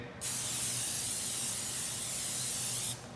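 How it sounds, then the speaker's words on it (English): A single sustained hiss of cooking spray from an aerosol can into a baking dish, close by, lasting under three seconds before stopping. "spray it with some cooking spray"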